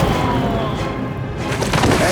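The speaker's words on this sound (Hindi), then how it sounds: "ऐसी शक्ति का विस्फोट हुआ कि सिमिका श्रापित बन गई।" Cartoon magical power explosion in an undersea adventure, a loud dense boom and crashing rumble filling the whole moment with a swelling surge near the end.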